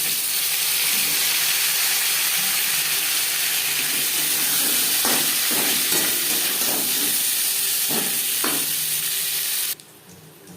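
Potatoes frying in hot oil with black cumin seeds for a fish curry, a steady loud sizzle with occasional stirring clatter before it cuts off abruptly near the end.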